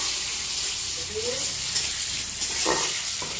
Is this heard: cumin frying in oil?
yes